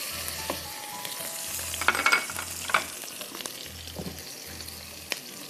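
Ginger and garlic, a tablespoon each, sizzle in a pan of oil with chili oil, a steady soft crackle with a few sharper pops and stirring scrapes, faint and close with no talking.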